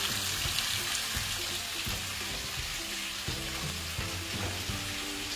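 Chili and cumin powder stirred into greens and chickpeas frying in a pan, a constant sizzle punctuated by scraping strokes of a spoon at an irregular rhythm, close and moderately loud.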